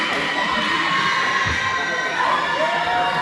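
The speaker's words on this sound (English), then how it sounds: "A lot of cheering." A crowd cheers and shouts in a high school gym during a varsity boys basketball game on senior night, young voices loud and continuous with some scattered yelling.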